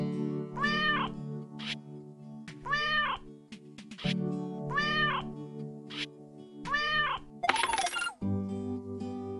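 A cartoon cat in the Vlad and Niki 12 Locks video game meows four times in an even, repeating rhythm, each call clear and close, followed by a bright chiming game sound.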